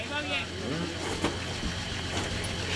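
A Nissan car's engine idles and runs steadily as it reverses out of a stuck spot, a constant low hum with a brief clunk partway through, while people talk over it.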